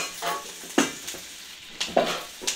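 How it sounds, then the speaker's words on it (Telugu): Garlic, onion and carrot stir-fry in a pan, a low continuous sizzle broken by several sharp scraping and clattering strokes of a spatula against the pan, close by. "వెల్లుల్లి వేసిన తర్వాత ఆనియన్స్ వేయాలి. ఆనియన్, క్యారెట్ వేసి"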